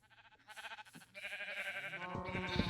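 A flock of Minecraft sheep bleats in short, repeated wavering calls that grow louder and more crowded toward the end, with no voices.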